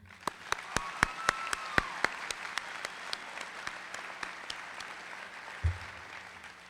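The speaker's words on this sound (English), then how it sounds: "So let's give them a round of applause to show how much we appreciate them." Graduation ceremony audience applauding: crisp, distinct claps ring out at first, then thin into a quieter, scattered patter that gradually fades, with one low thump near the end.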